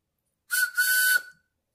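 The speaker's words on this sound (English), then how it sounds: "we're just going to test it out by blowing into it and see if we can get any whistle out of it" A homemade whistle gets one short test blow, a clear, loud, steady high tone lasting under a second with a breathy edge, heard up close in otherwise quiet surroundings.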